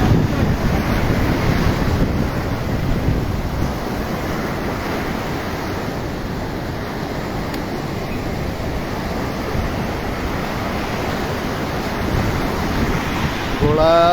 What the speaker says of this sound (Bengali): একটা ঢেউ, ঢেউ থেকে আরেকটা ঢেউ খুবই ভয়ঙ্কর ঢেউ।